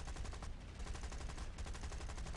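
Rapid bursts of machine gun fire from War Thunder aircraft combat, with an IL-2 and an I-16 nearby, rattling continuously and loudly throughout with dense, evenly spaced shots.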